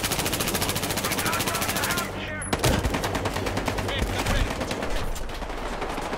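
Rapid automatic gunfire rattles in the Battlefield Hardline shooter, a dense continuous burst that breaks off briefly, then resumes with sharp single shots and more sustained firing, loud and close.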